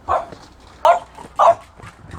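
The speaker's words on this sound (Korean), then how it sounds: "강아지가 멍멍합니다" A dog barks in three short, sharp woofs spaced roughly half a second apart, fairly close and clear, outdoors near a hillside house and bus stop, with faint ambient noise between barks.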